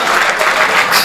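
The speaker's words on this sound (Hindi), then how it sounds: "एक बार और ताली बजा" Audience applause at a Hindi comic kavi sammelan, a poetry gathering: a dense, steady wash of clapping from a crowd lasting about a second, loud and close with no break.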